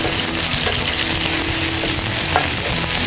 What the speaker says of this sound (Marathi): आलं लसूण पेस्टसुद्धा थोडीशी आपण फ्राय करून घेणार आहोत.